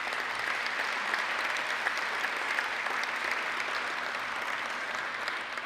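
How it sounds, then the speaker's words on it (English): A banquet audience at an awards ceremony claps steadily for a sponsor, a soft, even wash of applause from a fairly distant crowd lasting several seconds with no talking. "if you could give a round of applause to our good friends at Eastern Bank"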